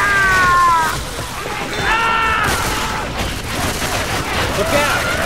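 Gunfire in the video game Left 4 Dead 2 on Xbox 360: a dense, noisy rattle of shots that runs throughout, with players' voices talking and shouting over it.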